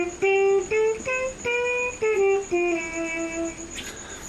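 A Bb trumpet converted to C, played through a practice mute, gives a short phrase of muffled, nasal sustained notes with small breaks between them, close and alone.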